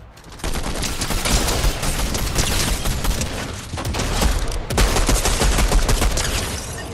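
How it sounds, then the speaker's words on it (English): Bots fire on the player in Fortnite, producing dense, continuous gunfire with rapid overlapping shots and booms that run loud for several seconds, with no talking. "I'm getting shot at by the fucking bots"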